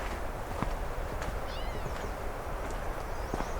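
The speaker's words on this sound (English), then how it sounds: "An actual meowing catbird." A catbird's mewing, cat-like call repeats a few times, faint and distant over steady outdoor background noise.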